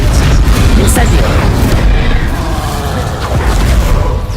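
Spells blast in the Hogwarts Legacy video game, loud booming bursts and rumbles following one another in quick succession while a voice talks over them.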